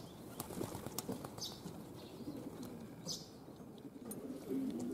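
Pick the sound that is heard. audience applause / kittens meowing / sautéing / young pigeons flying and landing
young pigeons flying and landing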